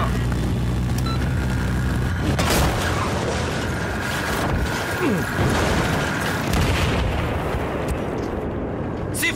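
A C4 charge blows up in the Battlefield video game amid a dense, sustained roar of battlefield noise, with heavy low rumble and crackling blasts layered throughout and a voice briefly present.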